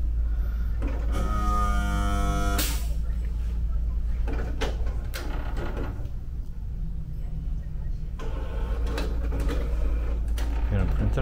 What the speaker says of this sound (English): Preparing printer for the first time.